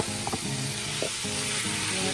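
Chicken pieces sizzle as they hit a hot pan for creamy Filipino sopas, a close, steady crackle of frying with light stirring clatter and no talk.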